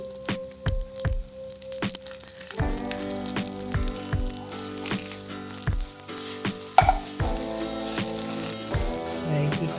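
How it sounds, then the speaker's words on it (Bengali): Oil sizzling around a vegetable pancake in a pan, a close, crackling spatter with sharp popping drops throughout that grows busier partway through, without speech. "চারপাশ দিয়ে তেল ছড়িয়ে দিচ্ছি"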